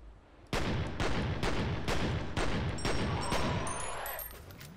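Pistol shots in the video game F.E.A.R., about seven evenly spaced loud reports roughly half a second apart, each with a short ringing tail, followed by a faint high electronic tone.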